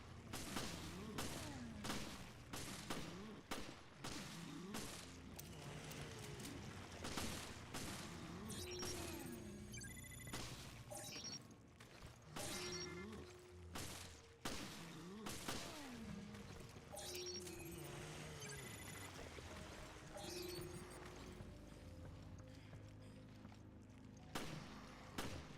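Gunfire crackles through a Resident Evil: Revelations fight, repeated sharp shots and heavy thuds spread across the scene amid game music and effects, fairly quiet overall.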